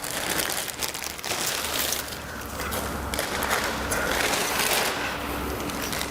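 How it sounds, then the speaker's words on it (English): Continuous crinkling and rustling of the plastic bag of a pop-up display stand, fairly close and steady throughout, with brief louder crackly bursts. "Or just pop the plastic bag over here."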